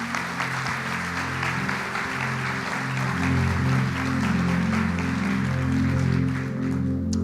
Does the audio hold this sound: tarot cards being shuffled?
no